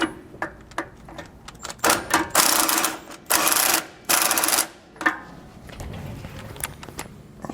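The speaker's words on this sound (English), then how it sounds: "So we're just gonna grab our gun and run it in." A power impact gun drives a bolt in on a rear anti-sway bar of a 2018 Forest River RV, sounding in several loud, close bursts of whirring and hammering separated by brief pauses and small clicks.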